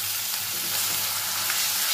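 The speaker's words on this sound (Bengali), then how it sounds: "পেঁয়াজটাকেও আমি খুব ভালো করে ভেজে নেব যাতে কাঁচা গন্ধ এর মধ্যে না থাকে।" Onion paste frying in oil after ginger and garlic, for a fish-head curry with potato and pointed gourd; a steady, even sizzle with no break, close and moderately loud, with no voices.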